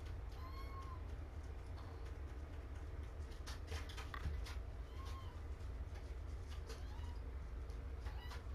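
Young kittens meow in a room in Roswell, a few faint high mews scattered across the stretch over a steady low background hum, with no talking.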